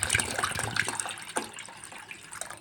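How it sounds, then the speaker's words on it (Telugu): Water poured into an instant drink mix with lemon, giving splashing, gurgling bursts up front that thin into lighter trickles and drips near the microphone. "ఇప్పుడు ఇంకా కొంచెం వాటర్ వేసుకుందాం."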